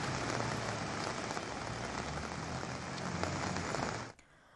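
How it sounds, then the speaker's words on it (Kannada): Heavy rain pours in Bulandshahr and Ghaziabad, a dense, loud, steady hiss of drops on surfaces that continues without pause, then cuts off abruptly near the end. "ಬುಲಂದ್ ಶಹರ್, ಗಾಜಿಯಾಬಾದ್ನಲ್ಲಿ ಭಾರೀ ಪ್ರಮಾಣದಲ್ಲಿ ಮಳೆ ಆಗ್ತಾ ಇದೆ."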